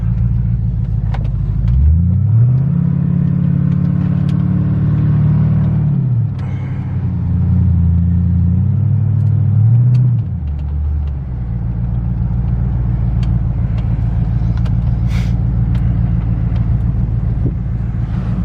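A Silvia work truck engine rumbles loud and close, rising through two long revs before settling back to a steady, deep idle.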